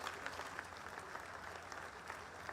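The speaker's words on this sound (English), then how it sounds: "The Prime Minister received a rousing reception including applause, standing ovations, and chants of Modi, Modi from the Israeli lawmakers." Israeli lawmakers applaud India's Prime Minister Modi in parliament, a sustained wash of clapping from a crowded chamber, faint and even throughout.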